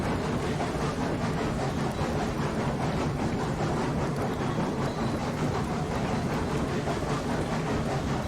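A heavy Class 70 locomotive hauling a long coal train in RailRoads Online, a continuous dense rumble and rolling roar on the track, steady and loud throughout with no pauses.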